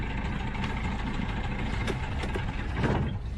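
Engine of a small sailboat running on passage, a continuous low rumbling drone with a few faint clicks and knocks over it.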